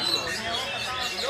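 Songbirds chirp and call at a bird-singing contest behind a bank in Batusangkar, with bright, rapid high tweets continuing under steady nearby crowd chatter.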